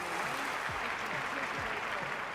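Crowd applause after an acceptable heavy weightlifting attempt judged with three white lights, a dense steady wash of clapping throughout, with faint voices mixed in.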